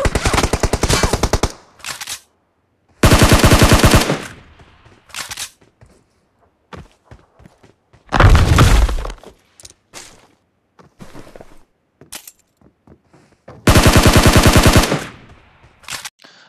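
Gunfire in PUBG Mobile: several loud bursts of rapid automatic fire, each a second or so long, separated by scattered single shots and quieter movement clicks, close and sharp with no talking.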